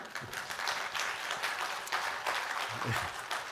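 Church congregation at an Easter Sunday service applauding the media team, steady, moderately loud clapping from many hands that carries through the whole stretch without a break.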